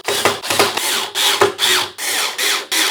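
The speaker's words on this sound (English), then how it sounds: "I'm going to finish them off with my power drill just to make it go a little bit faster" A power drill drives screws into a honey-brown wooden file cabinet, in short loud bursts with brief gaps between them, close up with no talking.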